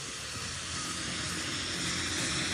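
Private jet leaving Olavarría, Argentina, with a loud, continuous broadband jet-engine roar and hiss that swells slightly as it goes on, heard alone without voices.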